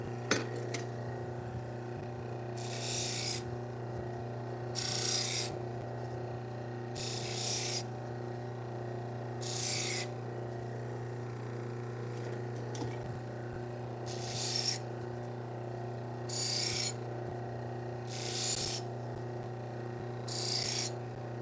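Repeated bursts of gritty, hissing grinding as butcher block kitchen knives, including a serrated one, are drawn across a sharpening machine, about nine evenly spaced passes over a steady motor hum.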